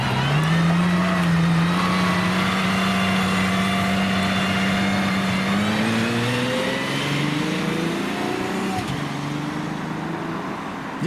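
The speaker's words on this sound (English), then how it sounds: "for yet another V12 of the day, we have an Aston Martin Valkyrie." An Aston Martin Valkyrie V12 hypercar drives past on a road, its engine a loud, steady drone that rises in pitch as it accelerates, with some traffic rumble around it.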